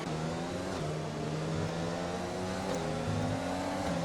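Race cars in a sim racing game roar down a straight in a close drag race, steady droning engines holding high revs with slight pitch shifts, loud and continuous.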